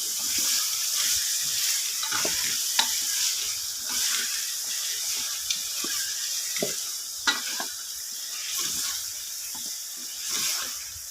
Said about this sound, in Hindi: इसको मैं 2-3 मिनट तक भूनती रहूँगी गोश्त और लौकी को।